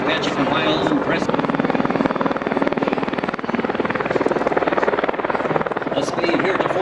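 Steady, rapid blade thumping from an Apache helicopter in flight pounds under a loud turbine whine. It is close and constant, with a voice speaking over the noise.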